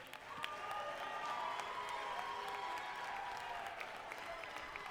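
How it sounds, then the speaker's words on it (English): Crowd applause and light cheering at a Duke City Championship Wrestling show, a steady, fairly distant wash of clapping that swells and holds for several seconds. "Ladies and gentlemen, a round of applause for my friend Mosh Pit Mike"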